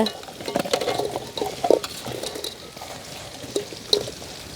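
Fried rajju being tossed with onions and sauce in a pan, giving soft, irregular scraping and stirring noises close by, with a few sharper clinks of the utensil against the pan.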